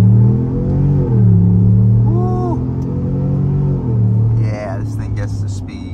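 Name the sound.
2024 Chevy Tahoe RST Performance Edition accelerating off the line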